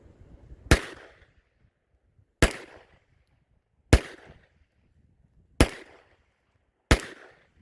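A gun firing cast bullets at a target outdoors: five loud, sharp, separate shots spaced roughly one and a half seconds apart, each ending in a brief echoing tail, with quiet stretches between.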